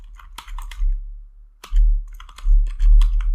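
Fingers tapping a computer keyboard up close, a quick burst of crisp keystrokes, a short pause, then a denser run of clicky typing, with no talking.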